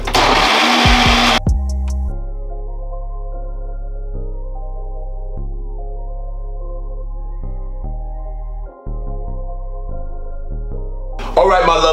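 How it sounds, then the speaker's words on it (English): A loud, high-powered blender whirs continuously blending a sea moss smoothie, its motor pitch shifting in steps as it runs, stopping briefly midway before revving back up. "This is a very powerful blender."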